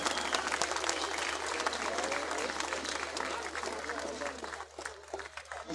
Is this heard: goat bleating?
no